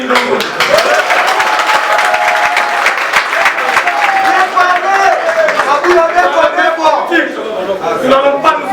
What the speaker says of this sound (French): je demande à la salle d'applaudir pour le courage du docteur Etienne Ilongo